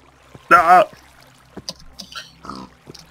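A pig in the Minecraft video game gives a short, loud oinking grunt early on, followed by quieter scattered game effects and faint movement sounds.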